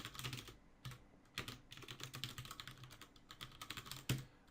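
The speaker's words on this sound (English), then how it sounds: "I'm going to type it out because I want to show you guys something." Fast, uneven typing on a computer keyboard while entering code for a mobile app, a close run of clicky keystrokes with short pauses and one harder tap near the end, with no voices.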